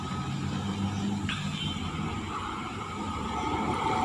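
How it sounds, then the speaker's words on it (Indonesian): A Bintang Utara intercity coach idles and moves nearby, its engine giving a steady, moderately loud rumble with faint road noise around it. "Ya, ini ada bus Bintang Utara."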